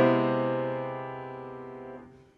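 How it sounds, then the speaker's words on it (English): A single sustained dissonant chord in a 20th-century style, held for about two seconds and then fading out, with no talking over it. "a 20th century composer might have composed a harmony that sounds like"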